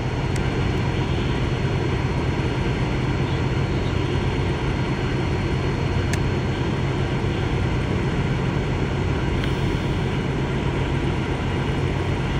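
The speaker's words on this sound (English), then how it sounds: "You know, this drone is so quiet, he probably can't even hear it." A small drone in flight gives a steady, unbroken whirring hum for the full twelve seconds, even in level and tone, with no voices over it.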